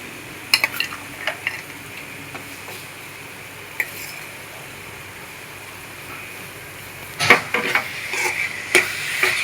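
Carrot halwa being stirred in a pan, a spoon scraping and clinking against the metal with faint sizzling underneath, scattered light stirs followed by a louder burst of scraping near the end.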